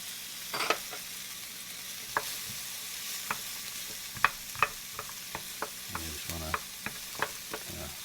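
Onions sweat and sizzle in a hot pan, a soft frying hiss broken by repeated scraping stirs and clinks of a spoon, close and moderately quiet.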